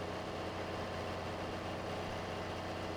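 A tractor engine idles steadily in Farming Simulator 22, a low continuous rumble that holds even and unbroken throughout with no voices over it.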